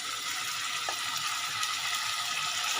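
Two small chopped tomatoes sizzling as they fry in a pan with spice paste, a steady, fairly faint hiss and crackle with no talk over it.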